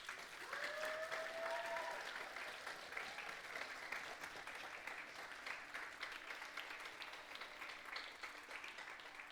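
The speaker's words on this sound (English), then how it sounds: "keep your applause going for Mr. Eric Joseph." Sustained audience applause at a Christmas in New York stage show, a continuous even wash of clapping heard at a moderate distance, with a brief voice over it near the start.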